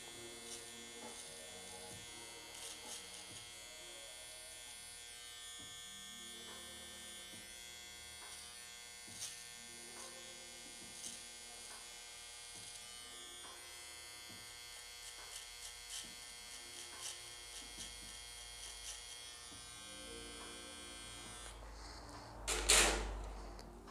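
An electric hair clipper cuts hair during a mohawk fade haircut, with a steady high buzz broken by small changes as the blade passes through hair, then a brief louder clatter near the end.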